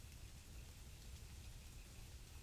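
Steady rain falls from big storms, a soft, even hiss of drops hitting surfaces that holds constant throughout with no voices and no thunder.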